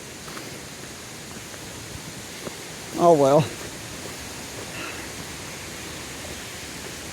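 Steady broadband rush of creek water flowing beside a waterfall trail near Thurmond, West Virginia, a constant hiss filling the whole stretch, with a brief spoken comment partway through.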